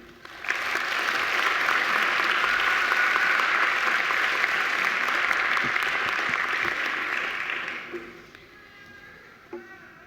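Sustained audience applause at a university graduation ceremony as a guest speaker is welcomed to the podium, a dense steady wash of many hands lasting about eight seconds before tapering off into quiet room tone.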